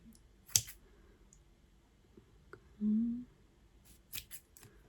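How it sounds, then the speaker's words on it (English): Scissors snip through loops of embroidery floss in a quiet room: one crisp cut near the start, then a quick cluster of sharp clicks toward the end, with a short low hum between. "So cut through the loops on both sides"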